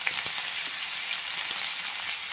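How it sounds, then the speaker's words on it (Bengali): Potato, pumpkin and eggplant pieces fry in a pan with cumin powder and turmeric, producing a steady, moderately loud hissing sizzle with faint spatters and light stirring taps, with no talk. "এবার আলু, কুমড়ো, বেগুনগুলো দিয়ে ভেজে নেবো ভালো করে।"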